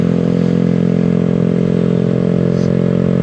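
Loud motorcycle engine running steadily at close range, a dense low rumbling drone with strong mid-range clatter that holds constant throughout.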